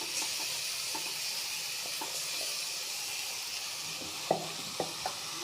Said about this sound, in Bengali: বাঁধাকপি বাটা, কাঁচা লঙ্কা বাটা ঢেলে দেবো।